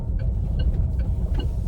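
A Farizon H9E 4.5-tonne fully electric truck accelerates with a steady low rumble of road and drivetrain noise and faint rising whine tones, heard close from inside the cab with no speech.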